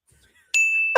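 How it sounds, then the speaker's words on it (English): Single bright bell ding rings out close and clear after a near-silent start, its tone sustaining, with a short burst of voice at the end. "Bell, please."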